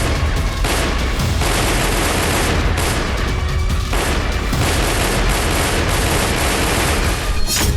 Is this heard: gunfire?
yes